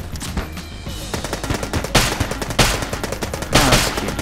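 A rapid-firing weapon in the video game Enter the Gungeon shoots in fast continuous bursts, a dense rattle of shots punctuated by a few louder blasts, close and without talk.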